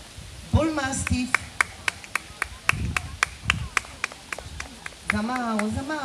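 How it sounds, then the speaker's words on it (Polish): Sparse audience applause at a dog show rings out as a string of separate, sharp claps at an uneven pace, with a voice-like tonal sound at the start and end. "Za mało tych oklasków."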